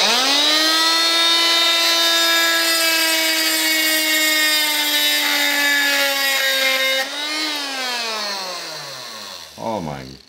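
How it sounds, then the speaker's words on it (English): Oscillating multi-tool with a carbide-tooth blade run at full speed, cutting through a nail in wood: a loud, steady high-pitched buzzing whine that dips in pitch under load, then winds down and stops. "let's see if we can cut this, turn this up to full speed and cut a nail"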